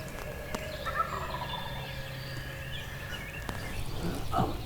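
Several wild turkey gobbles ring out at a distance in Wisconsin woods, two young males overlapping near the end, over steady outdoor ambience with a faint low hum.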